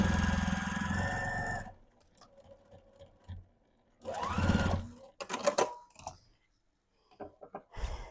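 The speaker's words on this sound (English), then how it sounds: "you can stitch this all the way up because it's not lined" A sewing machine stitches the top seam of an unlined fabric witch hat, starting with a steady, close buzzing run, then giving way to short, separated bursts and clicks.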